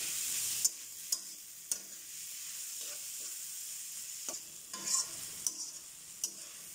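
Tomatoes sauté in a pan for kothu porotta, a soft steady sizzle broken by several sharp clicks and scrapes of stirring, fairly quiet with no talking.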